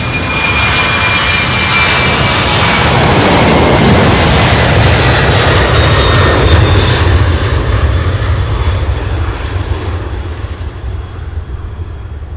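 A Boeing 767 or Airbus A300 jet airliner at Louisville's SDF airport gives a loud, steady engine roar with a thin high whine, holding strong before easing slightly at the end, with no voices.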